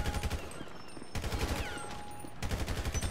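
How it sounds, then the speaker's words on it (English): Video game gunfire: repeated automatic bursts of shots, fairly close and loud, separated by brief pauses over a few seconds. "Oh, somebody's shooting me now."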